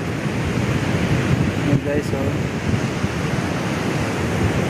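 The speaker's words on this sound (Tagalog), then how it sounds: "nandito kami sa tabing dagat" Seaside surf and wind make a loud, steady roar of broadband noise that never lets up, with a brief voice speaking over it midway.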